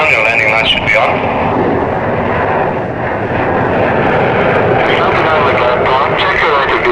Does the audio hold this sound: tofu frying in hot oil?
no